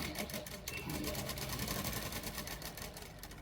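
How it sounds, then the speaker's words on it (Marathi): A sewing machine running steadily through fabric while stitching a 12-inch neckline, with a fast, even mechanical chatter heard close and continuous from start to finish. "इथून आपण जस्ट टिप मारून घ्यायची"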